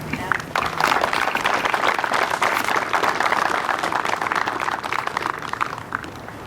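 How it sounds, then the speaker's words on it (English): Audience applause at a 2020 opening ceremony, a dense, steady wash of many hands clapping that starts abruptly and holds at full strength for about six seconds with a few cheers mixed in. "I'd just like to give a round of applause and show your appreciation to all of our efforts."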